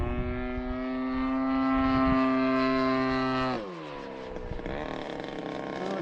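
Small engine of a scratch-built high-wing model airplane droning in flight, a steady buzzing whine that holds its pitch, then drops sharply as the throttle is cut and the tone sinks lower, with faint wind noise.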